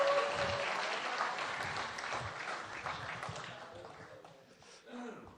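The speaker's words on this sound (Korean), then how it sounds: "박수 한번 보내주십시오." Audience at a Korean Democratic Party political speech claps in sustained, dense applause, moderately loud and tapering slightly near the end.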